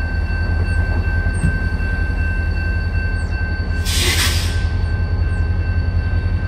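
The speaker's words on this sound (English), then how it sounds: "Got the rail fans here watching the train, gonna be put together." A CSX freight train being assembled in Clinton, Massachusetts rumbles steadily with idling diesel drone and a constant high tone, broken midway by a loud burst of air hiss; no talking.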